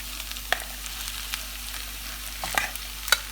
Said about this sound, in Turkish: Şimdi üzerine patatesimizi ilave edelim